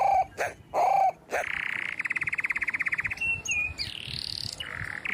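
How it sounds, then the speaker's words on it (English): Birds call and sing close by: clear whistled notes, a fast rattling trill, and a sweeping rising call follow one another in varied bursts, loud against a quiet background. "amazing sound of beautiful birds"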